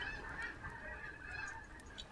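Large flock of geese honking, a faint, distant, continuous chorus of overlapping honks with no voices.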